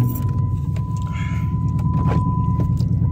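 A catless car exhaust rumbles at close range, with a deep steady idle and a few faint clinks. No distinct rev builds within the short span.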